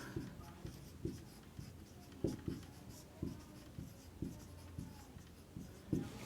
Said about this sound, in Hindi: सबसे पहले यहाँ देखिए, लिखेंगे पाइथागोरस